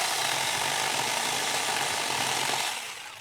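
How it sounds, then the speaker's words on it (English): Pruning saw cutting through a 4 to 5 inch tree limb: a dense, steady rasping saw noise, close and continuous, fading near the end, with no talking. "Got a nice 4 or 5 inch tree limb here. And we're going to see how the saw takes it."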